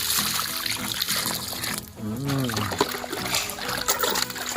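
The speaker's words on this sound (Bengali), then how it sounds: "আমি জল ঢেলে দিচ্ছি বাকিতে।" Water poured into a bucket for mixing clay mud, a close trickle and splash running through, with voices talking over it.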